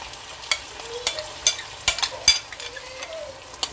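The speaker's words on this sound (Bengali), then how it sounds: "তো টক দইয়ের সাথে কিন্তু ভালোভাবে মিক্স করে নিচ্ছি" Spiced meat mixed with sour yogurt in a pan gives off a low sizzle under repeated sharp scrapes and clanks of a spoon, in irregular bursts close to the pan.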